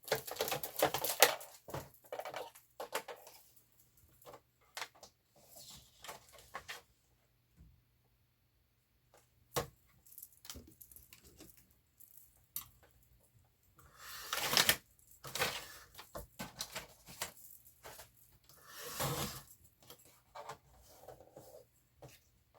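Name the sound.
cutting out paper pockets for a journal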